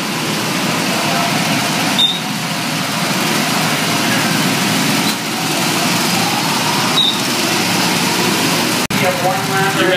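Go-kart engines run together in a continuous, rough mechanical drone at a track, staying fairly loud throughout, with voices faintly mixed in.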